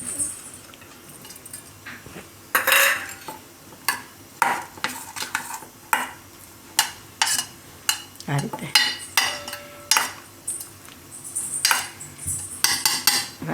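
A metal spoon clinks and scrapes against a bowl while mixing sabudana khichdi ingredients with green chillies, in a steady run of sharp, close taps with a brief spoken phrase near the start.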